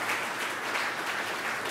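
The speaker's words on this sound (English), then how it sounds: "round of applause, please" Audience applause at a hemp summit conference, a steady wash of many hands clapping at moderate volume across the short stretch, with no speech over it.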